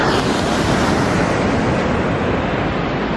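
Waves surge and wash over a black sand beach on Flores Island, Indonesia, a loud continuous roar of surf mixed with wind buffeting the microphone.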